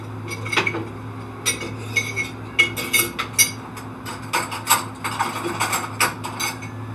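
A spoon clinks and scrapes against a casserole dish while cheddar cheese soup is stirred into a tater tot taco casserole with ground beef, giving a steady run of irregular, close metallic taps over a low kitchen hum.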